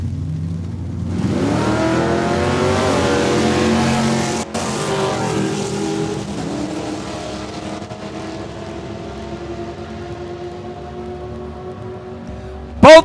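Drag racing cars launch at Saskatchewan International Raceway in Saskatoon: a sudden loud roar bursts in, holds hard for a few seconds, then fades and thins as the cars pull away down the strip.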